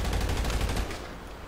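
A short burst of gunfire in a GTA roleplay video game session, several rapid loud shots bunched together and then quickly tailing off, with no talk over it.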